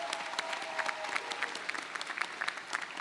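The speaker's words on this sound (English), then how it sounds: "Give yourself an applause." A graduating class applauds at a college commencement ceremony, with crowded, continuous clapping from many hands and crisp individual claps standing out across the whole stretch.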